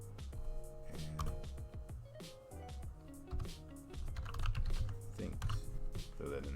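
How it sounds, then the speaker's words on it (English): A name is typed on a computer keyboard in quick, irregular bursts of close, crisp key clicks, steady throughout at low volume. "I'll just type in my name."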